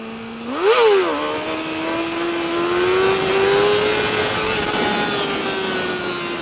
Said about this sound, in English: listen to how high I'm hitting the revs and how long I'm holding in the clutch